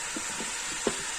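Butt (tripe) frying with whole spices in a cooker, giving a steady soft sizzle with a few faint stirring scrapes and one brief louder clack near the end.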